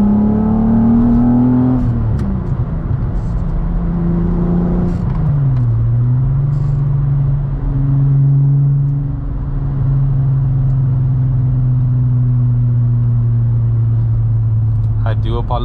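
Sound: driving a modified 12v VR6 swapped Mk2 Golf GTI

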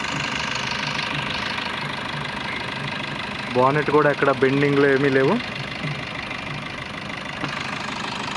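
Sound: Maruti Brezza 2018 ZDi diesel engine idling

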